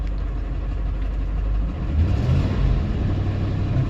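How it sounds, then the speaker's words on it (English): A Ford F-150 with no oil pressure idling, a steady low engine rumble that swells slightly partway through, heard close with no voices. "it's idling pretty good, not perfect"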